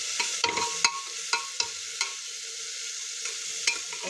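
A khichdi mixture with coriander and salt sautéed in a pan, soft frying sizzle running throughout while a spoon stirs and scrapes in irregular, light knocks close by.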